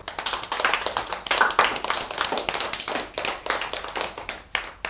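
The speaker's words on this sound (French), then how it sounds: "Donc on remercie le public et on s'applaudit." An audience at a French book-discussion event applauds together, a dense, steady patter of many hands sustained throughout with no voices.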